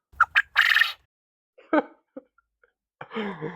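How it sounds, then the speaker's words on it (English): Short clipped calls from a pet quail, a few soft dove-like notes with pauses between, close and fairly clear, with no talking over them. "quail make kind of like a dove-like noise"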